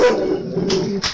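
A dog barks loudly and close by, a couple of sharp bursts over a steady low background.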